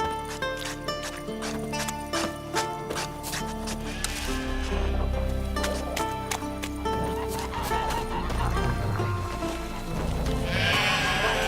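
Horse neighing and whinnying in The Witcher 3 set in Skellige, heard alongside clip-clop hooves and other animal bleats over a continuous bed of game music throughout.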